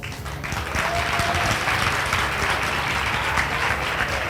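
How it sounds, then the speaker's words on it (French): An audience claps together in a sustained burst of applause, dense and even, building quickly after a softer start and holding steady. "est-ce qu'on peut applaudir pour les membres du jury qui ont fait un grand travail?"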